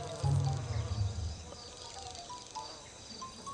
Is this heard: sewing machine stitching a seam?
no